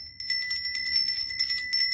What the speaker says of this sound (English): It's a brass apple-shaped bell.